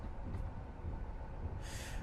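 A passenger train runs along the rails with a continuous low rumble and rolling clatter, moderately near and fairly quiet, with a brief hiss rising toward the end.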